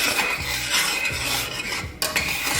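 Oatmeal stirred in a pot on a stovetop over medium heat, a loud continuous scraping and rubbing of spoon against the pot, close and unbroken with a brief pause near the end, no talking.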